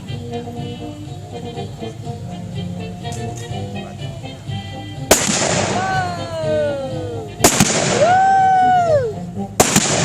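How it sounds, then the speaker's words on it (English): Gunshots in a trick shooting show at an outdoor Annie Oakley reenactment during the Oregon Trail Days Festival, fired at aerial targets: three loud, sharp cracks spaced a few seconds apart, set over crowd noise and a voice talking. "Watch now as Annie shoots these aerial targets"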